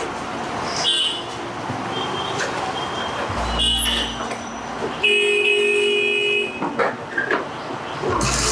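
A vehicle approaches and sounds its horn in a Marathi film scene, with engine and road noise rising and then a couple of loud horn toots near the middle and end.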